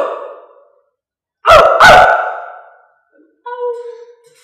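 A person mimics a dog's bark with two loud, abrupt, close yelps, followed by a softer drawn-out vocal sound, with quiet pauses between.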